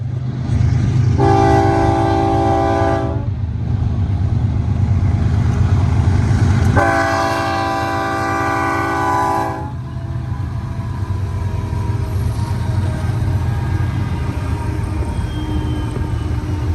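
A BNSF Z high-priority freight train with five locomotives passes on the main track near Cajon Summit, a steady loud rumble under two long horn blasts, the second the longest, with the engines continuing to drone after.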